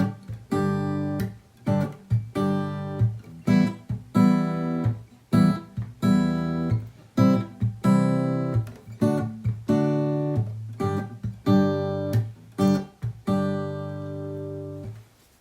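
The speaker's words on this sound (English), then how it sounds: "I'm not strumming this one, I'm just plucking it with fingers and thumb at the same time" An acoustic guitar is fingerpicked through Stand By Me by Ben E. King, with the thumb and fingers plucking together in a steady, repeating bass-and-chord pattern. Each note is close and clear, and the guitar plays alone with no voices.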